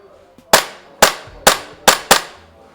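Five sharp, loud shots from a SIG Sauer P320-M17 CO2-powered airsoft pistol, fired alone at an uneven pace with short decaying tails, close to the listener.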